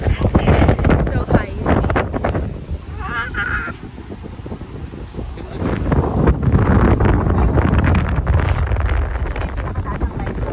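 Strong wind buffets the top of a lighthouse in Baler, Aurora, a steady blustery roar with gusts swelling and easing throughout, up close on the mic, with voices talking beneath it.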